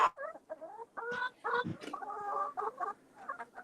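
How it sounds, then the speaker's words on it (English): Several chickens clucking and squawking close by in a lively, irregular chatter of short calls and louder bursts. "Oh, there's your little chickens."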